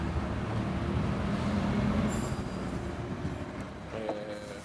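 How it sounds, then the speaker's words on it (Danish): IC3 diesel train passing on a Danish line, a steady loud rumble of wheels and carriages rolling by at close range, with a faint high squeal and a brief tonal hum toward the end. "Her har vi IC3-toget"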